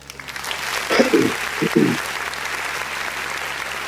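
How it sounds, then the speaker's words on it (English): A short burst of applause from a small group, two quick rounds of clapping lasting about a second each, over a steady background hiss. "Excitement and applause."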